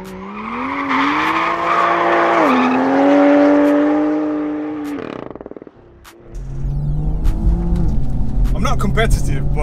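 A BMW M140i accelerating hard, engine note rising through the revs with a tire squeal as the tires fight for grip, then a gearshift dip and renewed loud engine roar, heard close and loud.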